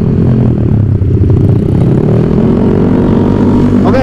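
A modified 218 cc motorcycle engine fitted with an exhaust that doesn't match it runs at a steady, loud, close idle, a dense continuous drone with no pauses.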